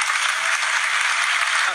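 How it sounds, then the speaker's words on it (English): Studio audience applause during a TV interview, a dense, steady wash of many hands clapping at once, loud and sustained for the whole moment. "I thought they weren't going"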